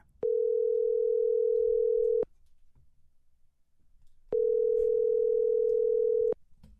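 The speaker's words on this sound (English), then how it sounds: "Let's give him a call right now." A telephone line gives two long, steady, loud tones about two seconds each, separated by a quiet gap, as a call is placed.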